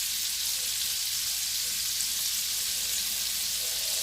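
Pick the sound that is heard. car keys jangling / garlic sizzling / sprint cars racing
garlic sizzling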